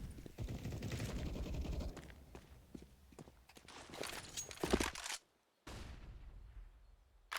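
Gunfire during a Counter-Strike match on the Inferno map, rapid bursts of automatic shots mixed with footsteps, fairly faint, before a brief dropout to silence.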